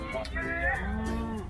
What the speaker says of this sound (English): This over here on the right-hand side, that's an Ankole cattle.